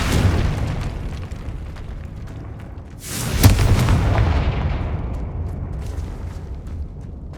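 Confringo fire spells blast in Hogwarts Legacy, a loud booming explosion striking about midway and rumbling away afterward, over a continuous low background roar with no talk.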